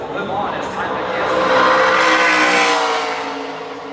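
Matt Crafton's NASCAR Craftsman Truck Series truck at Phoenix championship qualifying roars past at full throttle, engine pitch climbing then fading as it crosses the start-finish line, with a commentator talking over it.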